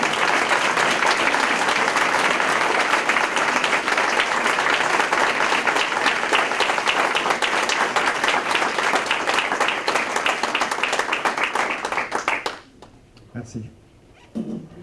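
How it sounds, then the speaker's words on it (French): An audience at a recognition ceremony gives loud, dense, sustained applause for about twelve seconds, then it stops abruptly and only faint room sounds and brief noises remain. "Dominique, veux-tu te lever, s'il vous plaît, qu'on t'applaudisse pour ce que tu as fait?"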